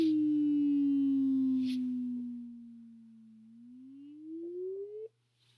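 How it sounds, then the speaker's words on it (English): A pure electronic tone from a data sonifier tracing a trend line, gliding slowly downward in pitch and then rising again before cutting off abruptly, steady and alone over a faint low hum. "I'm going to slowly decrease the frequency and then I'm going to increase the frequency"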